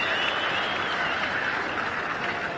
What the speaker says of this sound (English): And the crowd revelling in it.